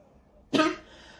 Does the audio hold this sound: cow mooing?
no